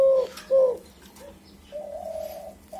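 Emerald doves and spotted doves in a breeding setup give soft, close cooing calls: two short coos at the start, then a longer, lower drawn-out note after a pause, with faint background hum.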